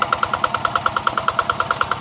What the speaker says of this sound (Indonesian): Inilah kehandalan mesin traktor Rianmat G600